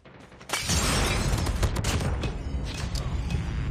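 An RPD machine gun firing in a first-person shooter video game, a loud sustained burst that starts abruptly after a brief quiet moment and rattles on with sharp cracks.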